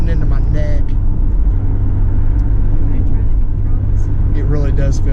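LS-swapped Chevy Nova on its first drive, with a deep, steady engine rumble and road noise from inside the cabin throughout, while people talk over it.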